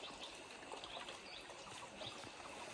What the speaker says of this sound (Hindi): वहाँ से पानी आ रहा है।